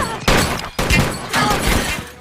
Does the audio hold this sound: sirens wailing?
no